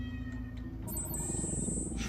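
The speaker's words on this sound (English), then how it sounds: "Sincerest apologies about the cat." A cat meows in The Batman Telltale Series video game, a drawn-out cry rising over a steady low background drone of game ambience.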